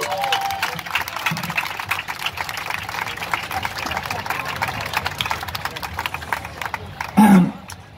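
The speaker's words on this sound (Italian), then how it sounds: "Con un altro calorosissimo applauso al basso e cori direttamente dall'Espagna" Warm crowd applause at a live event in La Spezia, broad and steady for about seven seconds, with a short louder burst of cheering near the end.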